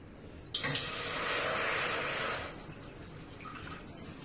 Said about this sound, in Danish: Og hælde vandet i gryden.